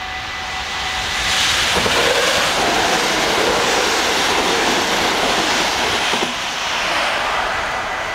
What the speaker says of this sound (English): And there's a train.